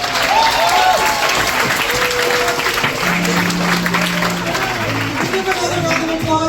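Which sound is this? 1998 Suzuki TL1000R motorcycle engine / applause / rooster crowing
applause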